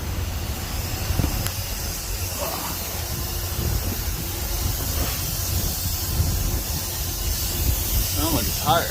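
Air escaping from a leaking truck trailer tire makes a loud, continuous broadband hiss, with a few faint squeaky sounds near the end.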